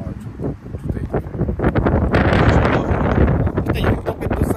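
Strong gusting wind outdoors ahead of a sandstorm, buffeting the microphone with a loud, continuous rumbling roar that swells partway through.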